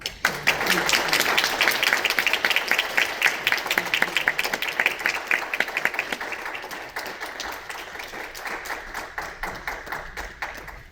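Congregation applauding at a church ordination service, dense sustained clapping from many hands that starts loud and gradually thins and softens toward the end.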